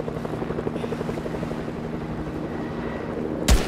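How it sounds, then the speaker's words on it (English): A helicopter in the video game Fortnite drones with a steady rhythmic rotor chop at moderate distance, ending with a sudden loud thump. "There's a chopper right over there."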